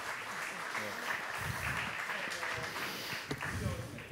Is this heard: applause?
yes